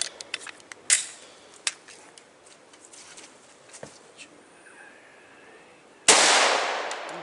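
A 10mm Glock pistol fires Underwood 165 grain hollow point rounds: one sharp, loud crack near the end after quieter clicks and handling noises.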